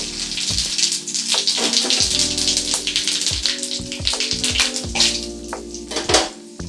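A dried red chilli, a bay leaf, whole garam masala and about half a spoon of cumin seeds sizzle and crackle loudly in hot oil, with a steady frying hiss, popping and a few metallic clinks from a pan.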